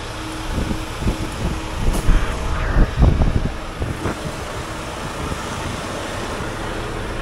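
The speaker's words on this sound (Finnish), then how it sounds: "Hyi kauheita kun tuulee kyllä." Wind gusts buffet the microphone outdoors on a cold winter day with snow and rain, a steady broadband roar rising and falling with low thumping blasts, alongside faint distant road traffic.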